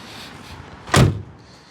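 A huge door on a damaged 1968 Cadillac hearse swings shut with one solid, close slam, preceded by faint movement and followed by a quiet tail.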